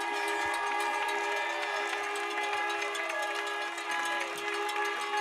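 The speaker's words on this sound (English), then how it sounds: "Okay, stop with the whistle, guys." Whistles blow after a high school football game, with sustained steady tones over crowd noise from the stands, loud and continuous throughout.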